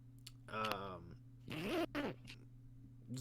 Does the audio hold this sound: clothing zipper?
yes